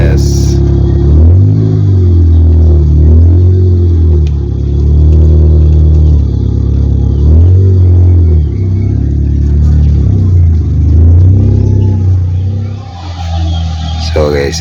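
A 1999 Honda Civic riding on L&T lowering springs is driven on a road test, its engine rising and falling in repeated revving arcs through gear changes, loud, close and continuous throughout.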